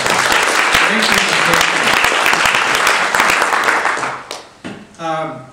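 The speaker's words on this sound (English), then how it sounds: "A round of applause for Frank, if we would." Loud, dense applause from a crowd, clapping steadily before tapering off near the end as a voice begins to speak.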